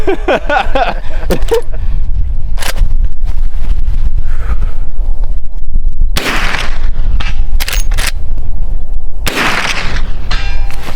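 Two loud lever-action rifle shots boom out several seconds apart on an outdoor 200-yard range, each with a sharp blast and trailing echo, amid heavy wind noise buffeting the microphone.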